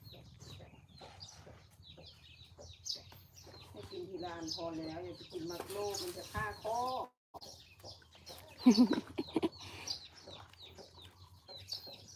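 Chickens cluck and murmur close by, with a burst of louder clucking in the middle, over faint background noise and occasional voices.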